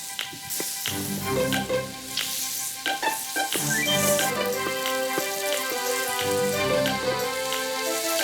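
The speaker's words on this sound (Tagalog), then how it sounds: "habang binabrown natin yung ating kasim" Pork shoulder browning in a hot pan for a Filipino vegetable-and-pork afritada, a steady close sizzle with crackling pops and occasional clinks throughout.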